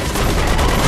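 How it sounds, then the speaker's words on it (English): A sentry gun in Borderlands 2 fires a dense, loud burst of rapid shots that fills the brief moment. "Sentry gun, run!"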